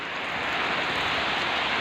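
Steady rain falling during a flood, a continuous, fairly quiet hiss of drops on surfaces with no other sounds.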